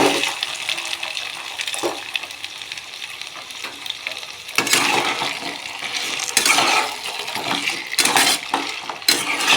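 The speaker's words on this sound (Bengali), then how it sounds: "মশলাটা কষানোর পর কেটে ধুয়ে রাখা আলু দিয়ে দেব" Cut potatoes frying in a cooked-down spice mix for a Bengali vegetarian dish, a steady sizzle broken by repeated scraping stirs against the pan, close and moderately loud.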